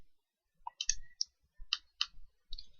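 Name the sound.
mouse click in Excel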